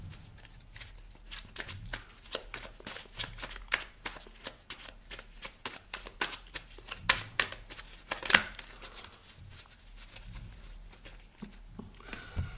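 Tarot cards shuffled by hand before a reading, a long run of crisp riffling flicks and slaps at close range, steady and fairly quiet with no talking.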